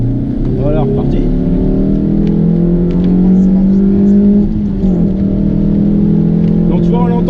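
A Suzuki Swift car engine accelerates with rising revs, eases off midway, then climbs again, loud and close under a steady road drone while people talk.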